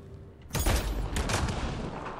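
A sudden loud burst of gunfire in the video game Mass Effect Andromeda erupts after a quiet moment, followed by a sustained rumble of shots and echoing blasts.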